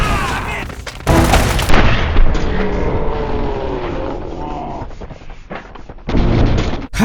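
Gunfire from the video game Uncharted: Drake's Fortune, loud booming shots that open abruptly near the start and return at the end, with game noise and a voice in between.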